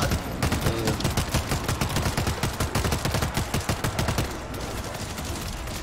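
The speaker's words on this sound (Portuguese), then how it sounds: "não adianta a gente ficar aqui atirando, não" Rapid automatic gunfire at zombies in World War Z, a dense, loud, continuous stream of shots that thins out near the end.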